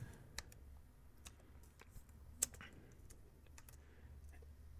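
Faint, quiet keystrokes tap out a short burst of typing on a computer keyboard as a file is renamed, with soft irregular clicks and a low background hum.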